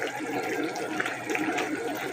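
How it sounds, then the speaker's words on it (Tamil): Water poured into a pot of simmering vegetable gravy in a home kitchen, a steady splashing, gurgling pour that runs on close and fairly loud. "அது கூடவே நமக்கு தேவையான அளவு தண்ணியும் ஆட் பண்ண போகிறோம்."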